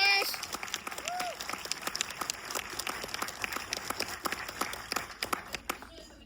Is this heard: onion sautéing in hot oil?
no